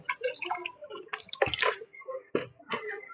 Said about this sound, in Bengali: তো আমি বন্ধুরা হাতটা একটু ভালোভাবে ধুয়ে নিয়ে